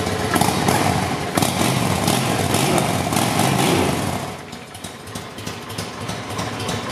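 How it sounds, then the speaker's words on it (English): Engine of a 2007 Honda Shadow 750 Aero motorcycle running up close, loud and steady for about four seconds before easing back to a lower, quieter idle. "Rev it up a little bit for you."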